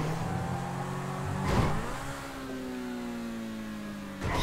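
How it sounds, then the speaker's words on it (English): A car in Grand Theft Auto V revs and accelerates, its engine pitch climbing steadily, surging in a brief loud burst, then settling into a sustained rising drone before another short surge at the end. "Step on the gas."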